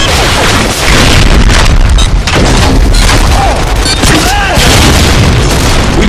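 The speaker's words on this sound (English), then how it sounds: "Tactical nuke ready for launch." A tactical nuke detonating in Call of Duty: Modern Warfare 2, a very loud, sustained rumbling roar of explosion that fills the whole stretch without a break.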